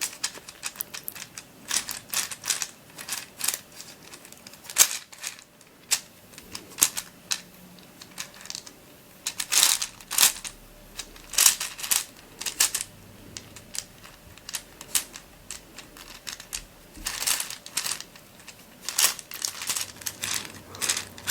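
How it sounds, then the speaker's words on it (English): The balls of a Hungarian rings puzzle click and clatter in close, rapid bursts as it is scrambled. Dense runs of sharp ticks break up with short pauses, and no one speaks. "So scrambling this thoroughly does take a really long time"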